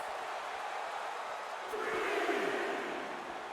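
Wrestling crowd in the video game WWE 2K23: a faint, steady wash of crowd noise that swells a little partway through, then settles back to a continuous distant roar.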